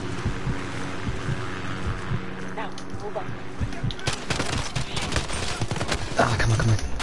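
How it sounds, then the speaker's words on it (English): Gunfire from a Call of Duty game on PS4 crackles in repeated rapid bursts, getting denser and louder toward the end. It is mixed with game ambience and someone talking. "Reload and shoot them."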